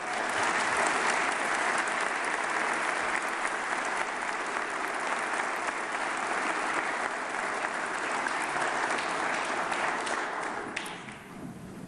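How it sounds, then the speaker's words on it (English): A large audience at a State of the State address applauds a basketball team, producing a dense, continuous roar of clapping that holds steady before easing off at the very end. "please give them a round of applause."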